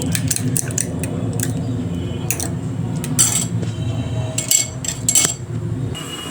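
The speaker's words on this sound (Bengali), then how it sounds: "ডিম দুটোকে ভালো করে ভেঙে কাটা চামচ দিয়ে এভাবে মিশিয়ে নেব" A fork clinks repeatedly against a bowl while two cracked eggs are beaten together in a home kitchen, producing irregular light metallic taps over a low background hum.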